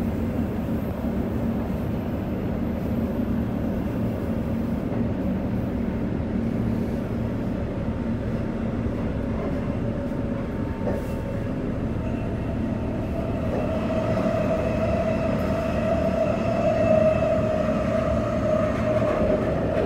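Steady rumble and rolling wheel noise inside a Transperth MAN B-Train electric train pulling into Perth city, with a faint rising motor whine near the end and no talk.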